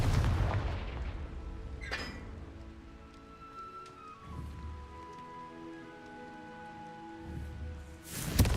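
A Confringo explosion spell in a Harry Potter wizarding video game, heard as a heavy booming blast followed by rumbling debris and crackling, with further deep impacts around the middle and at the end.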